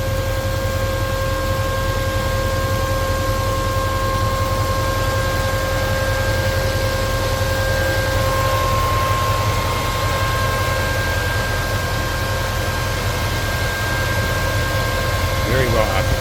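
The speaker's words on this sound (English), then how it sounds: "so, noisy electric fan" A 1965 Ford Mustang convertible with a 289 V8 and automatic transmission runs at idle while its electric cooling fan whirs loudly and steadily, a broad constant hum with faint tonal whines throughout.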